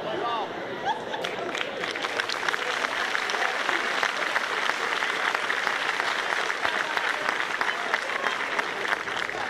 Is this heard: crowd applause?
yes